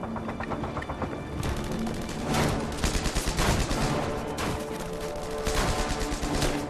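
Dense bursts of rifle and machine-gun fire in a 1944 World War II forest battle, loud and rapid with overlapping volleys and no voices.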